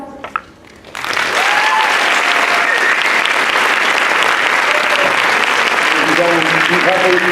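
Audience applause breaks out at a school awards event after a student stage performance, a sustained, dense clapping that swells quickly and continues steadily, with a voice briefly audible over it.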